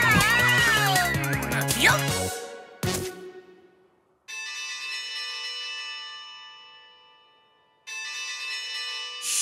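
A burst of lively cartoon sounds from a children's cartoon gives way to a clear bell that rings and fades, then strikes once more near the end.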